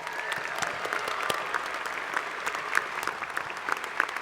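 Sustained applause from a university commencement audience at Virginia Tech's spring ceremony, steady dense clapping with a few sharper claps standing out, moderately distant in a large venue.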